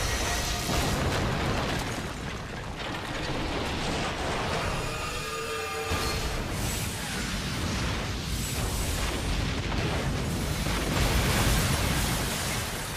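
Continuous heavy booms and explosions from cannon fire in the video game The Last Story rumble one after another, dense and loud, like a chaotic battle with no pauses.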